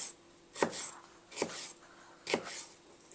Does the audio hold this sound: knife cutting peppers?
yes